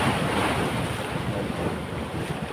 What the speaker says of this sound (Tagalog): ang lakas ng alon mga idol oh